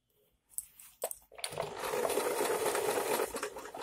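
Sewing machine stitching the side seam of a suit: a few hand clicks and fabric shuffles, then a steady fast whirring run of stitching that holds at an even loud level to the end.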